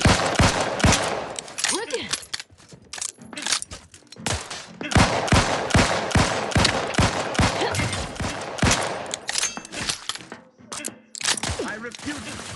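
A firefight in the video game The Outer Worlds 2 roars with dense, continuous gunfire, rapid automatic bursts and single loud shots crowding together, while voices bark brief combat callouts between the volleys.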